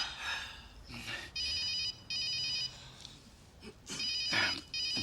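A telephone ringing before a conference call, with several loud electronic ring bursts in a regular on-off pattern and brief voices between them.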